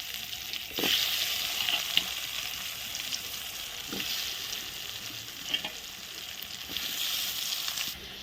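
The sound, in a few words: potatoes frying with dry chilli and cumin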